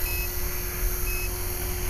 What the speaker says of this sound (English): Ah, there's the timer